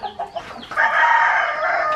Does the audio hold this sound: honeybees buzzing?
no